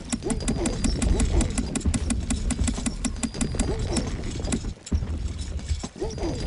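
Horse hooves clip-clop in a quick steady rhythm in the video game Stronghold Crusader, loud and close, with a low engine-like hum beneath.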